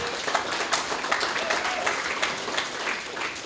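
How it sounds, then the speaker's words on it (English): A crowd claps for athletes at a training session, a steady patter of applause with scattered sharper claps, moderately loud and continuous for a few seconds. "can we give a round of applause for our athletes?"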